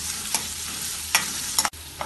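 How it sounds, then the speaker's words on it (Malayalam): Onions sautéed in hot oil in a kadai while being stirred: a continuous sizzle broken by several sharp spatula scrapes against the metal pan, close and clear with no voices. "ഇതിനി കുറച്ച് സമയം ഇളക്കി വഴറ്റാം."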